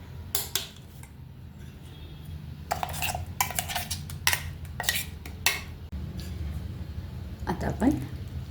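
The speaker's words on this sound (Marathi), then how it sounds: "भांड्यामध्ये काढून घ्यायचं" Ground masala scraped from a grinder jar into a vessel: a run of close, sharp metallic clinks and scrapes in uneven bursts over a low hum, with a few quieter gaps and a faint voice briefly in the background.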